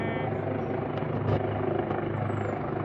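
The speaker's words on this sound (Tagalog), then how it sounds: "Ayan, may helicopter." A helicopter flies overhead with a steady, close rotor drone that runs throughout, while people talk underneath outdoors near blooming flowers.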